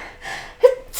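One person sneezes indoors during a board game, a short breathy intake followed by a sharp, close burst and a trailing exhale.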